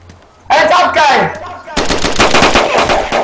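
Gunfire crackles in a PVP video game: a short burst of shots, a pause, then a longer run of rapid automatic fire, loud and close, with a voice heard among the shots.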